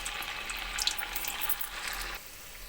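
Sabudana vada patties frying in hot oil, a steady close hiss and crackle that runs on alone and eases to a quieter sizzle near the end.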